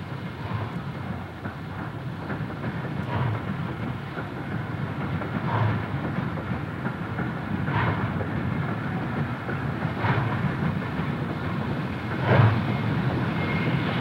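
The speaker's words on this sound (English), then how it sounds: "a westbound train from Lima approaches" A westbound steam-era train from Lima approaches on the Nickel Plate Road, a steady low rumble with faint rhythmic clatter building gradually in the distance, no voices.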